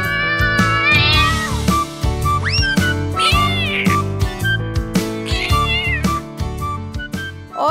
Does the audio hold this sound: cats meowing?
yes